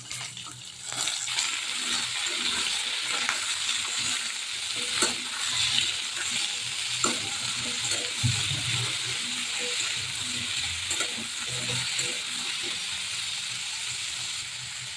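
Cut pumpkin and potatoes fry in hot oil with a bay leaf, giving a steady, close hiss and sizzle broken by occasional stirring clinks and scrapes of a spoon against the pan.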